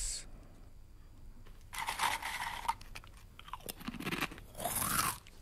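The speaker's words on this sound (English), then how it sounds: "This is the sound of someone eating potato crisps." Someone eats potato crisps, with close, loud crunching bites in short bursts between quieter chewing, heard alone against a faint background.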